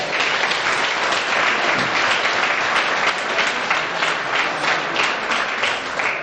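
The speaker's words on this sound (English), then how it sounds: "Let's hear it for Al Dudas and Bob Brady." Applause from a large crowd at a press conference for a fluke fishing tournament, dense steady clapping sustained throughout, loud and close.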